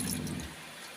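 Hands rinsed quickly under running water outdoors at a campfire while making bread dough, a short splashing rush that fades within a second.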